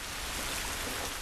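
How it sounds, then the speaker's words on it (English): Steady rainfall in The Last of Us Remastered video game, a soft, even hiss of drops with no breaks, fairly quiet and without voices. "So I'm just gonna enjoy all this rain for a second."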